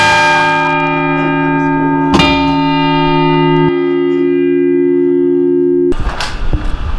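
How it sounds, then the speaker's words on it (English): Large library tower bell at McCartney Library, struck once near the start and again mid-clip, each strike ringing with a long sustained hum that decays slowly, followed by a burst of louder clanging and rustle near the end. "He wants you to ring the bell. That would be the main one."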